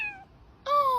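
A cat gives two short, clear meows close by, the first trailing off and the second, after a brief pause, louder and rising, with nothing else audible.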